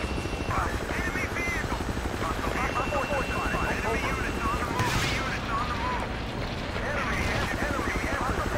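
A helicopter flies overhead in a combat game at the Dalian Plant map, its steady rotor roar loud and continuous, joined by bursts of gunfire and other battle noise.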